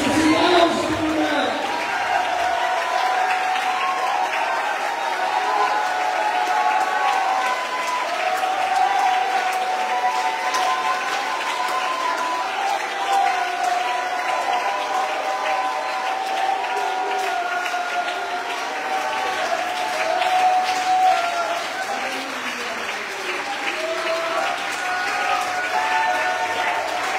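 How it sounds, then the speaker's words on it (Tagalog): A church congregation at an evangelistic preaching service applauds and shouts together, sustained clapping and raised voices filling the room for nearly half a minute at a loud, steady level. "You the best na palakpak at the best na siyaw sa muna."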